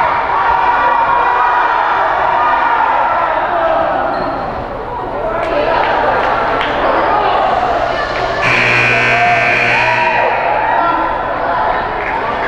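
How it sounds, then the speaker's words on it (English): An energized crowd cheers and roars at a girls' high school basketball game between ALA and Manti, loud and continuous, with swells of shouting, a brief buzzer-like tone and commentators talking throughout. "Crowd's pretty energized tonight."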